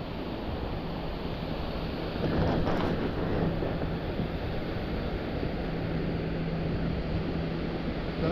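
Small, gentle ocean waves washing onto a beach, a steady soft surf wash with wind rumble across the microphone, slightly louder partway through, no voices.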